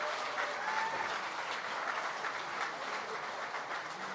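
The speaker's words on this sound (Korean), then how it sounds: "뜨거운 격려와 응원의 박수 한번 다시 보내주십시오" Sustained applause from a standing party audience honoring thirteen Democratic Party supreme council preliminary candidates after their speeches, a steady dense wash of clapping held at even loudness throughout.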